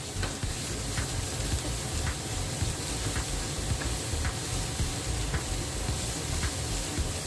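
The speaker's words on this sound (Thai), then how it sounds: "พริกแกงเราต้องสุก ถ้าไม่สุกมันจะเป็นเปื่อยๆครับ เราต้องผัดไปเรื่อยๆก่อน" Thai green curry paste stir-fried in a pan, giving a steady, close sizzle and hiss with soft, regular stirring scrapes throughout; no one talks.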